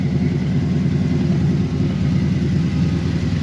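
A 1957 Chevy 210 barn-find car's engine runs at a steady idle, a loud, even low rumble that holds continuously with no talk over it.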